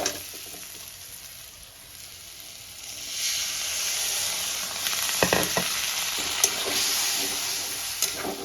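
Spiced potatoes for a Bengali kalibaus fish chorchori sizzle and fry steadily in a pan, with the hiss rising louder after a few seconds as water hits the hot masala, and scattered spatula scrapes.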